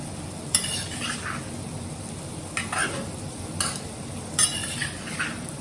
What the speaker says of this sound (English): Now gently mix it. The paneer should not break.